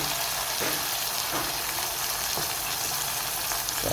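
Tomatoes frying with garlic and onion in a pan give a steady, bright sizzle that fills the whole stretch, with a few soft stirring clicks.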